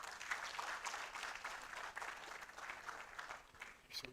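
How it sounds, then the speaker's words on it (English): Audience at a science conference gives a round of applause for a presenter after her final slide, a steady dense patter of many hands lasting throughout with a brief swell at the end. "Can we give her another round of applause?"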